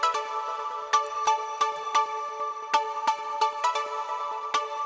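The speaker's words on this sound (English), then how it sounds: "I want a movement with my pluck. So it goes like this." A bright synth pluck repeats in an uneven rhythm, its tone shifting and sweeping slightly from note to note, clear and alone.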